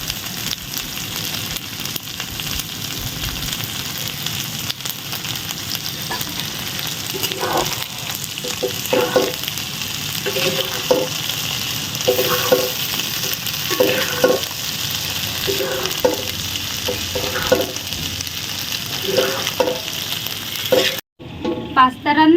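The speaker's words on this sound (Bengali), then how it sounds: "ভালো করে নাড়িয়ে চাড়িয়ে নেব।" Egg chicken pasta fries in a pan with a steady, loud sizzle as it is stirred, with scraping strokes through the middle stretch before it cuts off abruptly near the end.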